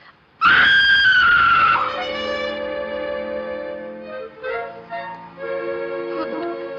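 A woman's loud, sustained scream bursts out at night, echoing briefly in a house, then gives way to tonal music.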